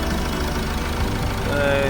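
Car engine with a blown head gasket idling and briefly revved about 100 rpm, a steady rough low rumble with a slight rise in pitch near the end, voices faint underneath.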